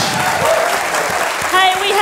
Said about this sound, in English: Can we have a big round of applause for everyone at Howler for hosting us?